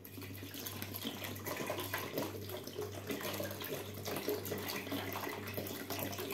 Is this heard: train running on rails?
no